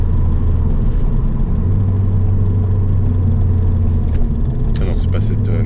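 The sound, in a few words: Ford Fiesta ST Mk7 Stage 2 engine intake while accelerating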